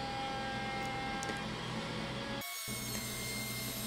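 A Shopbot CNC router cuts plywood with a steady, dense mechanical whine and grinding hiss, running continuously at moderate volume with a brief dropout partway through.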